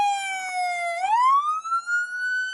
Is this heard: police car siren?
yes